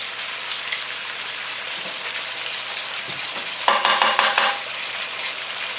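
Squid pieces fry in a hot pan while being browned for a Provençal dish, giving a steady dense sizzle that bursts into louder crackling, spitting pops near the end.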